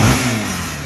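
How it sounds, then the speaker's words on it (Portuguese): Honda XRE 300 motorcycle engine revving close by, a short loud growl that settles slightly as it holds. "Olha esse ronco, tio."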